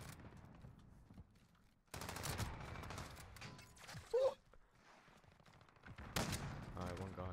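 Kar98 bolt-action rifle shots in a first-person shooter game, a few sharp cracks spaced apart amid game noise, with a voice talking at times.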